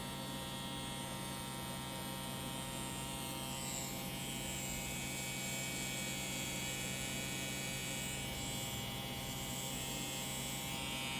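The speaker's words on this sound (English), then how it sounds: "So I can already tell it's a really smooth, really fast running machine." Solong EM 138-1 rotary tattoo pen machine with LED lights running at 11 volts, giving a steady, smooth, high-speed electric whir with a constant hum, continuous and close throughout.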